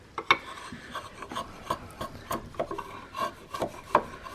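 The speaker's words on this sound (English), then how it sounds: "It's a little 1/4-inch paring chisel." A small 1/4-inch paring chisel shaves a wooden barrel channel for a Tennessee iron-mounted flintlock rifle, giving a string of short rasping scrapes and sharper cuts at an uneven rhythm, close and moderately quiet.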